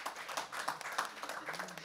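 An audience at a conference talk breaks into clapping, a steady crowd patter of many hands lasting a couple of seconds at moderate level.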